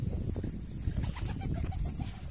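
Pigeons cooing in a traditional mud loft in a South Punjab village, low throaty coos repeating close by in a steady murmur, with no voices.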